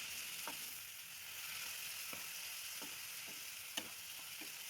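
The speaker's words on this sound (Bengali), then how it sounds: "সামান্য একটু জল দিলাম মশলাটা ভালো করে কষানোর জন্য।" Spice masala with Kashmiri red chilli powder and a splash of water frying in a pan, a soft continuous sizzle broken by occasional light stirring scrapes.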